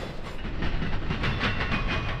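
A daily southbound intermodal freight train rolls past at Cordele, Georgia, with loud, close wheel clatter and a steady rumble of wagons going by.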